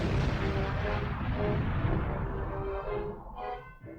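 A massive atomic bomb explosion thunders loud and dense at first, a broad roaring rumble that slowly thins and fades away over a few seconds.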